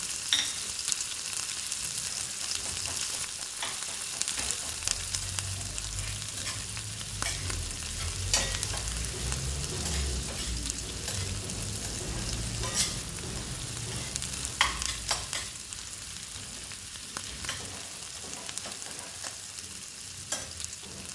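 Tomato, ginger and garlic frying together in a pan for a fish-head dish, a soft continuous sizzle with scraping stirring strokes and occasional louder clinks throughout, no talking.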